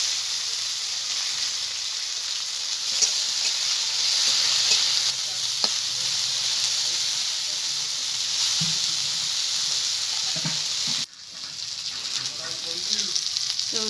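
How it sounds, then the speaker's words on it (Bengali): Sliced bitter gourd fries in hot oil with a steady bright sizzle, stirred now and then, and a brief dip as the pan is disturbed before the hiss picks back up. "তেল গরম হয়ে গেছে, এবার কেটে রাখা উচ্ছেগুলোকে আমি ভালো করে ভেজে নেব"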